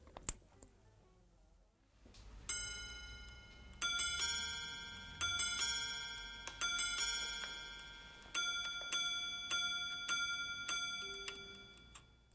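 A Patek Philippe minute repeater watch chimes after its button is pressed, striking a sequence of clear, ringing gong notes in spaced groups, each decaying slowly, close and delicate against a quiet background.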